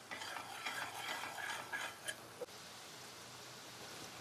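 A spoon stirs besan (gram flour) in a pan on a medium gas flame, giving soft scraping and faint sizzling close by, with a couple of sharper scrapes and a light clink partway through.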